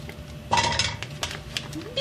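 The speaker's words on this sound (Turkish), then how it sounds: "Birazını tencereye koyuyorum." Pumpkin pieces drop into a medium pot with a few clattering knocks and clinks of metal and cookware, close by and irregular, with no talking.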